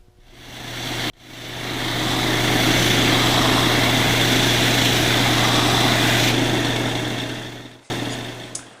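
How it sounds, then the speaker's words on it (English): A belt sander shapes wooden soundboards for a turkey call in a workshop, a loud steady roar with a low hum that starts abruptly, holds for several seconds, cuts off, then restarts briefly. "we're going to go over to the belt sander and we're going to sand the soundboards to that profile."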